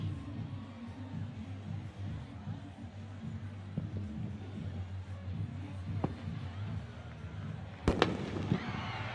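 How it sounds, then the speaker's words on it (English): Fireworks bursting at a high school football game between rival bay-area schools, a few sharp cracks and pops standing out over a steady crowd murmur, with a louder burst near the end. "We're actually getting actual fireworks."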